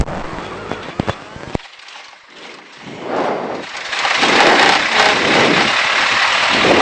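A light aircraft's piston engine cranks with a few sharp clicks and coughs, catches, then settles into a loud, steady rumbling idle close by, with no talk over it.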